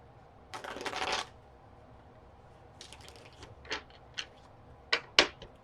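A Celtic Tarot deck is shuffled up close: one longer riffle, then several short, crisp card flicks and taps spaced apart in a quiet room.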